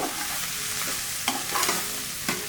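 Cauliflower masala frying in a pan is stirred, giving a steady sizzle with a few scraping strokes of the spoon across the pan, close and moderately loud, with no voices.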